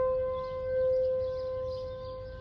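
A tornado warning siren for Rock County and Winnebago County holds a steady, droning tone throughout on a still, humid day, rising and falling only slightly in loudness, with no voices.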